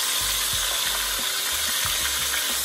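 Calamari pieces deep-frying in hot oil in a pot, giving a loud, steady sizzling hiss with scattered crackles and a few low knocks throughout.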